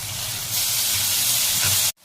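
Tomato and ginger-garlic paste drop into onions already frying in a pan, giving a steady loud sizzle with a sharper hiss that swells midway and then cuts off abruptly near the end.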